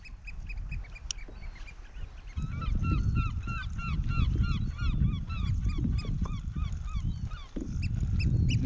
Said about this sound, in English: The birds are happy with the settled weather.